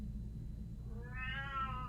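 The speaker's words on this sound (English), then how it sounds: "good heavens, that's the cat" A house cat gives a single drawn-out meow, faint and somewhat distant, rising in the second half of the moment over a quiet background hum with no talking.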